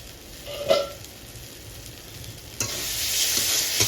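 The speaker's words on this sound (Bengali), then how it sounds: "ভালো করে নেড়ে চেড়ে নেব" Spice paste frying in a pan for a prawn and pointed gourd dolma, stirred with a spatula: a quiet sizzle with a couple of scraping strokes that swells into a louder, brighter hiss near the end, heard close and alone.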